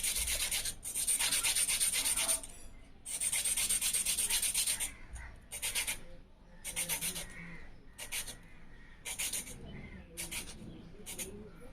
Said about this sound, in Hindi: पेंसिल को शार्प करना है तो आप सैंड पेपर यूज़ कर सकते हो। ये देखिए, ये सैंड पेपर, और मैं सैंड पेपर से इसको घिसूँगा।